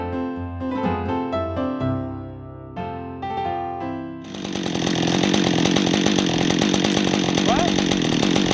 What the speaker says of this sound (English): Cutting some firewood, but we found an ash that'll be good for pull handles.